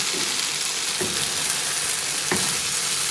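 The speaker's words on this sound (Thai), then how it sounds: "ก็ใส่กุ้งฝอยลงไปเลยค่ะ กุ้งฝอยลงไปเลย" Dried shrimp tossed into a hot pan of Thai pad thai sizzling steadily, a continuous loud frying hiss with a couple of brief stirring scrapes, no talking.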